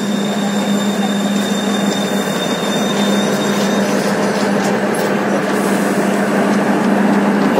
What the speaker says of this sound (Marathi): कोणती तरी डेमो ट्रेन आहे.